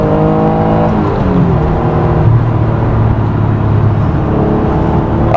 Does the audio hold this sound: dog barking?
no